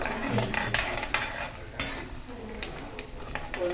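Tempering seeds frying in oil for puliyogare, with a soft continuous sizzle broken by light stirring and utensil clinks against the pan, no voices.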